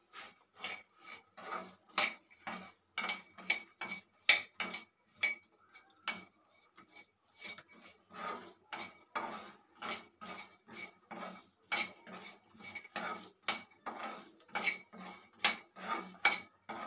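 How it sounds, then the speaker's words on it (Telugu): Makhana (fox nuts) tossed and stirred in a pan, giving a steady run of rapid, close clinks and scrapes of utensil on metal, with one brief pause partway through and no speech. "ఇలాగే ఒక 2-3 నిమిషాలు వేయించుకోవాలి ఫ్రెండ్స్"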